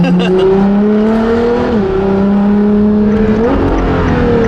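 Ferrari LaFerrari engine running loud and close, holding a steady deep drone that climbs briefly in pitch twice as it is revved.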